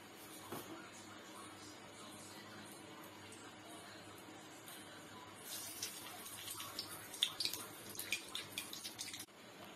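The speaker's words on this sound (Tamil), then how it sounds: "எண்ணெய் காய்ந்ததும் கடுகு கருவேப்பிலை போடவும்." Steady crackling sizzle of mustard seeds and curry leaves frying in hot oil, growing busier and louder partway through with sharp pops and spatters.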